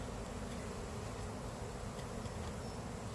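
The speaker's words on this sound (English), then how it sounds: "I have a bee on my food." Honeybees buzz in a steady, soft drone around an opened Langstroth hive during a varroa mite inspection. The swarm hums quietly and continuously, with no other sounds.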